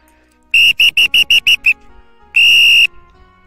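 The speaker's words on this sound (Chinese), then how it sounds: "被我一吹哨它跑掉" Someone blows a shrill whistle to chase off a Tibetan mastiff: six quick loud blasts in a row, a short gap, then one longer blast, all close and piercing over a quiet outdoor background.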